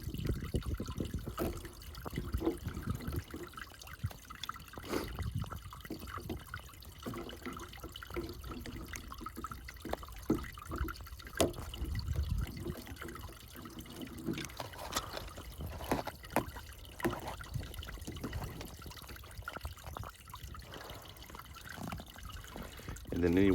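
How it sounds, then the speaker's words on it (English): Water drains from the drain plug of a pool heater, a soft intermittent trickle and dribble with clinks of handling, beneath someone talking. "And then any water in here will drain out inside the heater."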